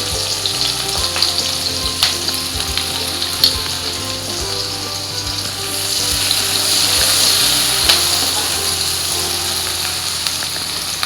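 Chopped onion and garlic sizzle in hot oil in a pan for a roasted eggplant mash, a loud steady frying hiss with occasional stirring clicks and a faint low hum underneath.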